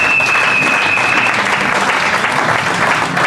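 Dense applause and cheers roll through a church congregation acclaiming the Lord, a steady loud wash of clapping with a brief whistle early on.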